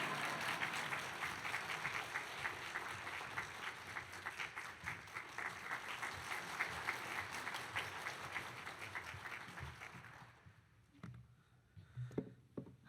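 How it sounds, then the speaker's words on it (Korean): A church congregation applauds to welcome a pastor with sustained, dense clapping for about ten seconds that then drops away to a few scattered claps. "우리 큰 박수로 할렐루야로 환영하겠습니다"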